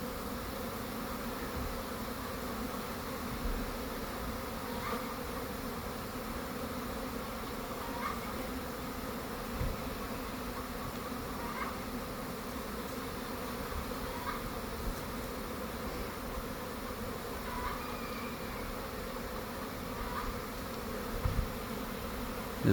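A honey bee swarm arriving at a swarm lure outdoors, a continuous steady buzzing hum of many bees filling the scene, with a few louder individual bees passing close by.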